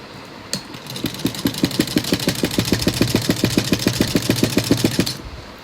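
A sewing machine stitches a fabric strip for a small doll's summer dress, running in a fast, steady mechanical rattle of evenly spaced needle strokes for about four and a half seconds, close and loud with no talk.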